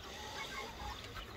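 A rooster clucking inside a chicken coop, short soft calls over a steady hiss of background noise, faint and close, with no one talking.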